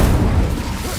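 A fiery Incendio spell blast in Hogwarts Legacy, a loud, dense booming burst of flame that roars briefly and stays heavy in the low end for about a second.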